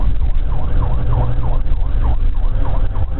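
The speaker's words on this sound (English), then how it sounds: "killing lights and sirens" A police car siren wails in a steady repeating up-and-down sweep, close and loud over a continuous rumble of engine and road noise, with no talking.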